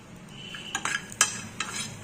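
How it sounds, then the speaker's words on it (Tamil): Grated coconut dry-roasts in a pan without oil, a faint low background broken by a few sharp scrapes and taps of a spoon against the metal. "இதையும் இதில் லேசாக வறுத்துக்கலாம் சும்மாவே எண்ணெய் எல்லாம் ஊற்ற வேணா ஃப்ரையாகவே வறுத்துக்கலாம்"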